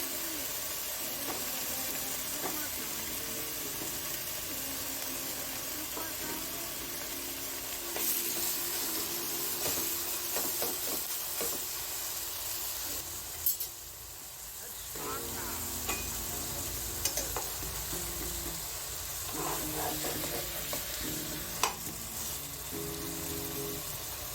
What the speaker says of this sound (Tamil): ஏற்கனவே மேரினேட் பண்ணி வச்ச அந்த சிக்கனை ஆட் பண்ண போகிறோம்.